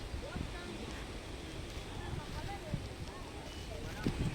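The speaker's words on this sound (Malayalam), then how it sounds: "ബീച്ചിൽ വന്നിരിക്കുന്നത് നല്ല രസകരമായൊരു കാര്യമാണ്. നല്ല കാറ്റ് കൊണ്ടിട്ട് ഇവിടെ സുഖമാണ്" Waves wash steadily onto a beach while wind buffets the microphone, a continuous low roar with faint scattered knocks and distant voices in the background.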